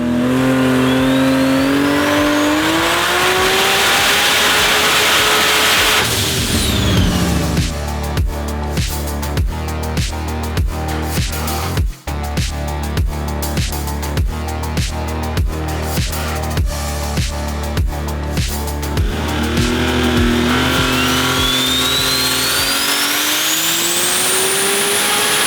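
A Holden VL with an RB30 engine fitted with a billet cylinder head, running heavy boost and nitrous, accelerates hard and loud, engine note climbing and dropping through rapid gear changes and rev bursts, with tire noise, no talk.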